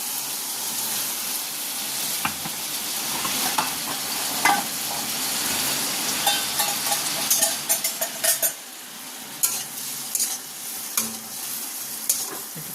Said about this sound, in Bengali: একটু কষিয়ে নিই মশলাটা।